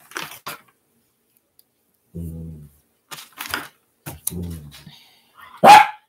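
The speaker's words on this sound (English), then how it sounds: "do you hear how demanding this dog is sometimes?" A dog gives a few short, insistent barks with pauses between them, close and fairly loud, alongside some small clicks and handling noises indoors.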